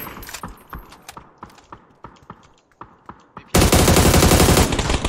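Rifle gunfire in a first-person shooter video game, a rapid run of sharp close shots, then a dense loud sustained noisy blast.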